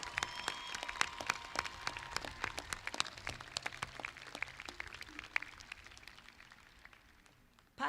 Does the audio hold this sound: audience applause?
yes